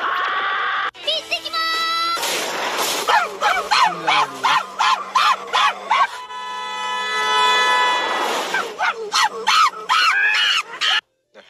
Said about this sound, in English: my dog is in the background trying to get in the room.